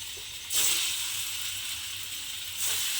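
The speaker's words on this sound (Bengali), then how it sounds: "তেলটা আমার গরম হয়ে গেছে এইবারে আমি একটা একটা করে ধোকা তেলের মধ্যে দেব দিয়ে এটাকে আমি একটু লাল করে ভেজে নেব" Red lentil dhoka pieces go one by one into hot oil to fry, each drop bringing a fresh burst of close, hissing sizzle over a steady crackle.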